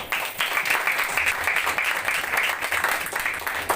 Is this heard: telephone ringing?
no